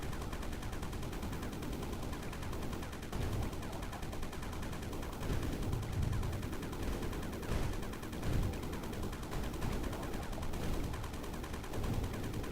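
Continuous rapid gunfire from a Steam Next Fest video game demo, dense automatic bursts rattling without pause throughout, loud and close with occasional heavier thuds, no voice over it.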